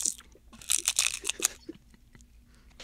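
Crisp seaweed snack crunched between the teeth in a quick burst of loud, close bites, then scattered softer chewing crackles fading away, with no talking.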